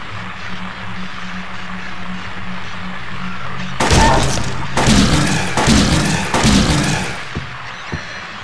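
Several loud, sharp gunshots in Silent Hill 2 follow a quiet, humming stretch, with roughly four close blasts spaced about a second apart, each leaving a brief echoing tail.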